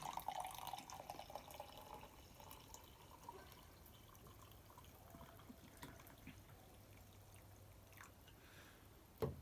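Coffee poured from an Espro Ultralight press into a National Parks cup, a soft trickling stream of liquid running steadily and faintly for several seconds before a brief louder knock at the end.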